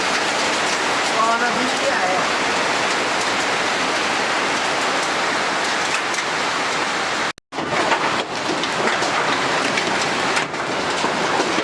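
Heavy hail falls in Sherpur district, a dense, continuous roar of pelting ice on roofs and surfaces, loud and unbroken throughout, with a brief dropout near the end before the clatter resumes.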